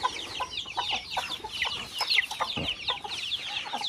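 Chicks and hens clucking around a newly built coop on a small farm, a busy close chorus of overlapping cheeps and clucks with no talking.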